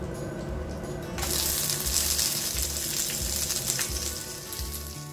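Oil bursts into a loud, steady sizzle as curry leaves hit the hot pan, close and continuous, with a low rhythmic rumble underneath.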